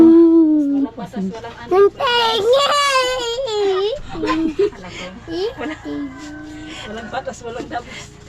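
Several children make noise indoors, one crying and whimpering in loud bursts alongside chattering kid voices and an adult talking intermittently.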